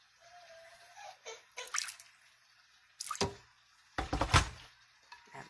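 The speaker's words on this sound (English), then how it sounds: "I'm just going to add a little bit of water to this." Water is poured over seasoned tilapia fish in a pan, giving short splashing and trickling bursts separated by quiet gaps, close and moderately loud.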